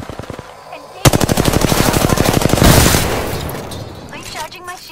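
Video game gunfire from a shooter attacking the player: a sudden, loud, rapid automatic burst of shots lasting about two seconds, close and harsh, then fading, with a voice speaking alongside.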